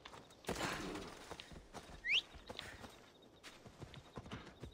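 Horse hooves clip-clop close by in the Assassin's Creed Odyssey video game, a steady gallop rhythm with a short high whinny in the middle, heard over quiet game ambience.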